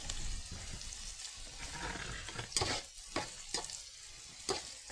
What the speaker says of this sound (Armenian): Տապակեմ այնքան, մինչև գույնը փոխի։